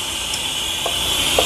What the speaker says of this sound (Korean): 옆에서 지금 밥 끓는 소리가 들리고 있습니다